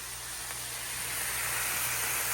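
Onion added to a hot pan with garlic while cooking lumpia gives a steady broadband hiss and sizzle, loud and close, building slightly over a couple of seconds with no talking.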